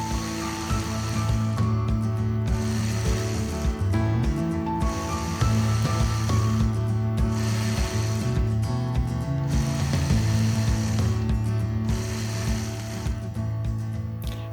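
A domestic sewing machine runs steadily while stitching angular lines across a star quilt block, its motor humming in a continuous, close stretch with short pauses and changes in speed.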